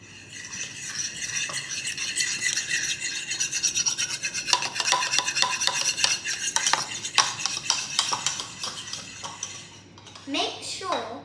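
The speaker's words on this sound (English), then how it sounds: "I'm going to beat the yolks together like this." Egg yolks being beaten in a bowl for a cheese soufflé, a continuous scraping, clinking whisk or fork against the bowl that runs steadily for about ten seconds, loud and close, then a brief pause and a few final strokes.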